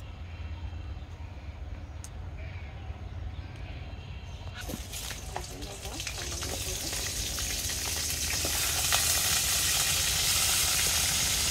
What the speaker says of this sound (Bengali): তো কাঁকড়াটা একটু ভেজে নেব, আর তার জন্য একটু হলুদ গুঁড়ো মিশিয়ে নেব।